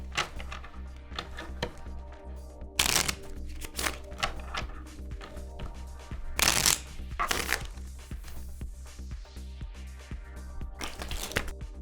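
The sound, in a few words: shuffling trading cards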